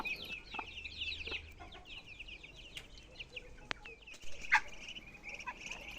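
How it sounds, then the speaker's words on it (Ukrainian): A hen clucks softly while small chicks peep in high, rapid chirps nearby, with occasional sharper calls in a quiet outdoor setting. "Курчатка вон бігають з квочкою."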